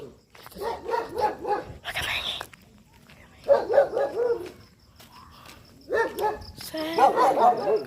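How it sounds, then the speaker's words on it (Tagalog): A dog barks in repeated short bursts, several yips in quick runs separated by pauses, fairly close and loud, with a person's voice and faint bird calls in the background. "Oh no, may aso ano."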